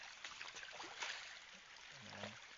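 Water from a spring intake feeding a ram pump trickles and splashes steadily up close, a continuous rushing flow with a faint low hum near the end.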